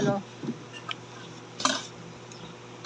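Tomatoes and onion sautéing in a pan, faint background sizzle broken by a few light clinks and scrapes of a utensil against the pan.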